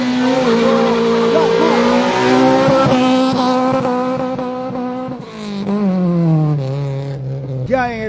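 Rally car engine idling and revving at the start line of a Peruvian rally special stage, a loud, steady, close engine drone with rising and falling pitch sweeps, under an announcer's voice over loudspeakers.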